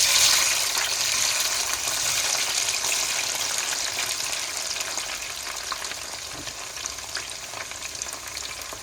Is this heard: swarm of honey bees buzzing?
no